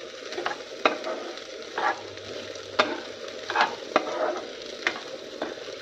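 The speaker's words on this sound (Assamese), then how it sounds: "চাউলখিনি ধুনীয়াকৈ ভাজি ল'ম পিঁয়াজৰ লগত এতিয়া ৰঙচুৱাকৈ।" Rice frying with onions in a pan gives a steady close sizzle, broken by repeated sharp scrapes and clinks as a spoon stirs it, with no voices.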